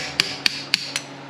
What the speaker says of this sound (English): Just put it on a slide hammer